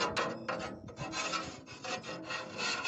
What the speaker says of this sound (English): So start scraping this down.